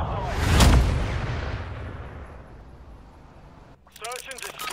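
A single loud booming gunshot in a Search and Destroy video game match, with a long fading echo, then a voice speaking toward the end.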